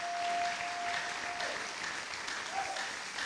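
A church congregation applauds during a Sunday service, a dense, sustained clatter of many hands clapping at once, steady and fairly loud throughout with a faint held tone near the start.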